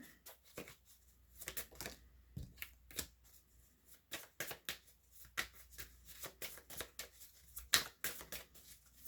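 Tarot cards being shuffled for a reading, a run of quick papery riffles and snaps with short pauses between bursts, close and fairly quiet, with no talking.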